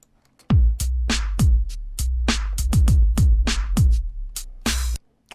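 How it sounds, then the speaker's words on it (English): Computer keyboard keys, including the spacebar used as a start and stop shortcut, are pressed about a dozen times in an irregular rhythm. The sharp, close clicks each trigger a short burst of drum beat playback with decaying low thumps. "I'm pressing spacebar every time I want to start and stop it"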